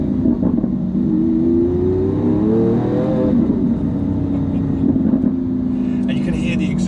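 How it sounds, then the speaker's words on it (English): A Lamborghini Aventador S exhaust sounds while driving on a first-drive test. The loud, close engine note climbs steadily in pitch as it accelerates, then levels into a sustained drone with a faint rattle near the end. "And you can hear the exhaust as well."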